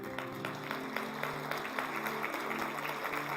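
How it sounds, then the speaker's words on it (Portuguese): Sustained applause from a church congregation, a dense patter of many hands clapping steadily at moderate distance, with faint voices mixed in. "Dê um aplauso ao Senhor."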